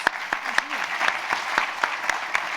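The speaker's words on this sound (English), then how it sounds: "Let's hear a round of applause for our panelists." A panel audience at a UN World Oceans Day 2024 event claps in a steady, moderately loud burst of applause with a few distinct sharper claps standing out from the crowd.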